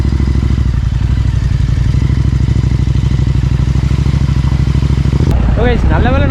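A motorbike rides through a water crossing, its engine loud and steady at close range with a rapid rhythmic putter, ending in a splashy, warbling burst as it hits the water.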